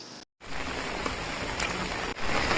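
Steady hiss of falling rain at the Basilica of Bom Jesus in Goa, close and continuous, briefly cut off near the start and again near the end.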